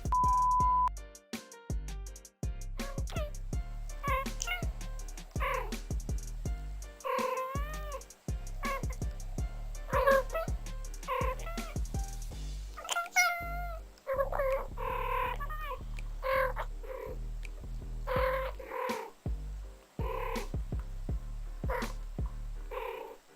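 A pet cat meows repeatedly over a steady rhythmic music track, the calls coming as clear, close cries throughout.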